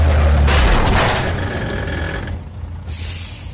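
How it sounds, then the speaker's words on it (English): A heavy truck's air brakes hiss and boom as its fender hits a bicycle, then a loud mechanical rumble settles into a steady engine drone, close up with no voices, in a World War II setting. "When the fender of the truck hits Lillian's bike, the force is enough to crumple the frame."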